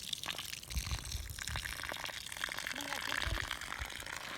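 Water runs and gushes steadily in the foreground of a jungle, with voices talking over it.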